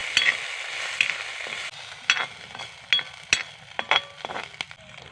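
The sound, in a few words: small shrimp frying in oil in a wok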